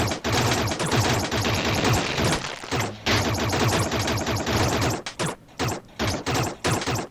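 Laser-gun fire in the game Another World, a dense, loud stream of rapid shots that later breaks into short repeated bursts with brief gaps, in a steady shooting rhythm.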